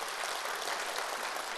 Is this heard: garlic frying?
no